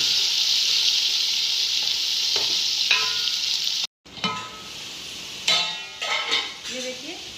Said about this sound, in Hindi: सबसे पहले हम इसके अंदर यूज़ करेंगे अपने प्याज और इसको हम थोड़ा सा कलर देंगे।